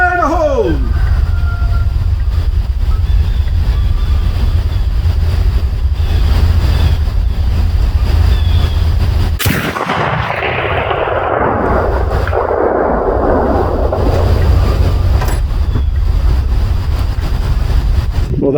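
.458 Win Mag Winchester Model 70 safari rifle fires one heavy shot outdoors, a sharp loud blast that rolls off into a long booming echo over steady wind noise.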